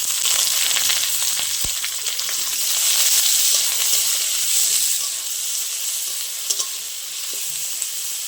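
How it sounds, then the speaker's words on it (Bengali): Chopped onions and garlic frying in hot oil hiss with a loud, continuous sizzle, with a few faint spoon clicks and brief knocks over the steady crackle. "পেঁয়াজটা একটু ভালো করে ভেজে নেব।"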